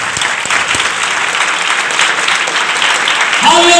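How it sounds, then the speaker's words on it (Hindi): A church congregation at a thanksgiving devotion service breaks into loud, sustained applause, dense clapping that fills the room from start to finish. "एक बार फिर यीशु के जलाल के लिए जोरदार तालियां।"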